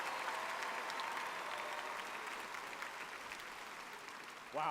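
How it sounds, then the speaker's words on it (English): Large-crowd applause at The Game Awards 2022 after an orchestra performance, a continuous even roar of clapping that eases slightly before a voice cuts in at the very end. "Christopher Judge and Sonny Soljic applaud."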